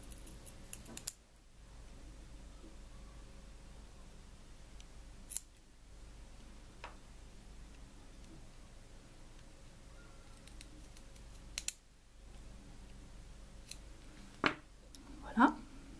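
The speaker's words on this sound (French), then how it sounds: "On va couper les mèches qui dépassent" Scissors snipping protruding wicks at the base of an e-cigarette coil, a few sharp close clicks spaced apart over a quiet background.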